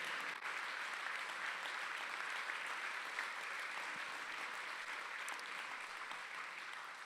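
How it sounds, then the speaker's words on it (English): A room of guests gives sustained applause for honoree Tom at a benefit evening for innocence: steady, dense clapping heard from a distance, with no voices on top. "We have not given you the round of applause that you so richly deserved."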